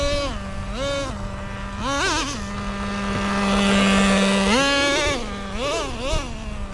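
Nitro engine of a Traxxas Nitro Rustler 2.5 RC truck fitted with sand paddles, screaming on a beach, its high whine rising and falling as the throttle is blipped and held, loud and close, with no talking.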